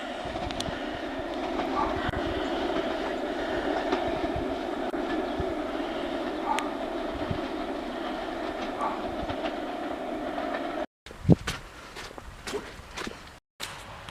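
A train rolls by at a distance on a coastal railway between Workington and Harrington, England, with a steady rumble and faint clacking, followed by a few close knocks and footsteps near the end.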